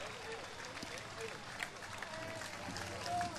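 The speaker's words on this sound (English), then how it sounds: "Do you hear that applause for these guys?" Crowd applause for Vietnam veterans marching in a Fourth of July parade in Bristol, Rhode Island, a diffuse outdoor clapping and cheering spread along the route, steady and moderately distant, with voices mixed in.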